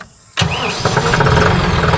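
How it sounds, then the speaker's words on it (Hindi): A 5210 tractor engine cranks and catches after a short quiet moment, then settles into a loud, steady diesel idle close by. "अभी देखो मैं आपके सामने ट्रैक्टर स्टार्ट करता हूँ"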